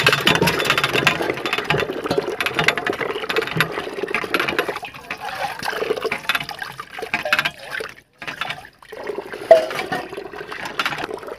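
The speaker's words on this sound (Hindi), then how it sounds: "ये अब इनके लिए मैं धुलने जा रही हूँ नल पर," Tap water runs and splashes as cut potatoes are washed under it, an uneven, close rushing sound with brief drops and pauses near the end.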